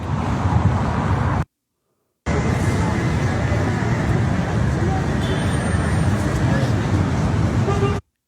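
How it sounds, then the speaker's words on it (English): Busy road traffic makes a dense, continuous roar of passing vehicles, broken by one short dropout, with hints of a horn in the mix. "Traffic."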